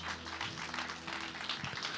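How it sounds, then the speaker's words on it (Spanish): A church congregation breaks into broad, dense applause during a Spanish-language sermon, with many hands clapping at once over low sustained music or voices in the background. "Denle un fuerte aplauso a Cristo, por favor."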